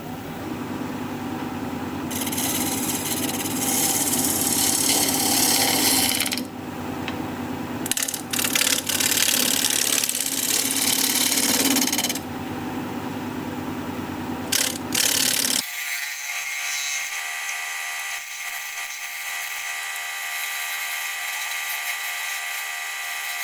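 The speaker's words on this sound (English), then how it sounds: "I'll try a little shear scraping" A lathe turns black cherry wood while a shear-scraping tool works it, making a loud, harsh scraping rasp in long stretches with brief pauses. Then it drops to a steadier, thinner whir of the spinning lathe.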